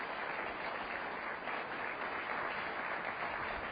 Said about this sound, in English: Ladies and gentlemen, please join me in welcoming Carole Simpson, Helen Bourne McCullough, Gordon Martin, and John Doar to the stage of the Kennedy Library.